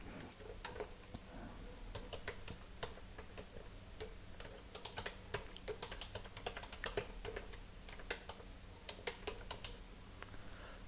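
Fingers type on a computer keyboard while text is entered in Microsoft Word, with quick, irregular clicking keystrokes, close and crisp, running steadily and alone throughout.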